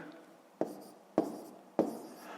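Pen strokes on paper as digits are written by hand during a fifth-grade subtraction exercise: three distinct scratchy taps roughly half a second apart, each trailing into a brief scrape, close and fairly quiet with no talk.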